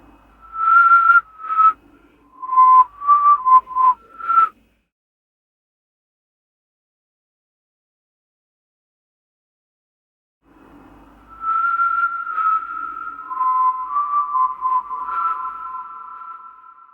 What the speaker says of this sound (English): Then I'm going to put the reverb and the delay on it while it's backwards.